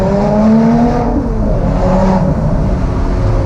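Lotus Exige Sport 380 engine running steadily in traffic, a continuous loud drone with rising and falling tones as revs shift between gear changes, heard close from inside the car with no talking.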